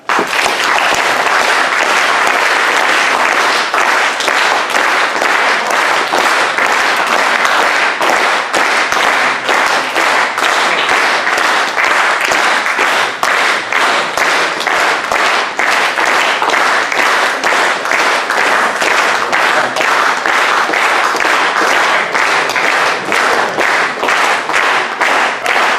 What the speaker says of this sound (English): Just try to clap, and again, please be organized and listen to your neighbors and clap with them.